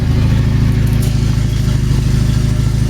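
A Mitsubishi Mirage coupe fitted with an Evo IV engine conversion idles steadily and still runs rich, giving a loud, continuous low rumble that holds even throughout with no revs or talking.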